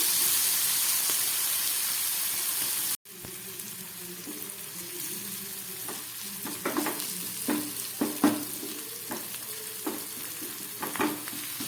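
Garlic, ginger and tomato sizzle and fry steadily in a hot pan, with a loud hiss at first, then quieter crackling and occasional stirring clatter.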